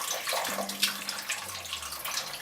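Liquid is poured into a pot while making chicken pot pie, giving a continuous splashing, gurgling pour at close range that runs for a couple of seconds.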